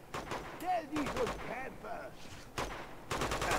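Enemy gunfire in Uncharted 2 gameplay, repeated bursts of automatic shots separated by short pauses, fairly quiet and mixed with game effects.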